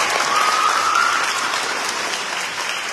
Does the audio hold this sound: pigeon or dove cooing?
no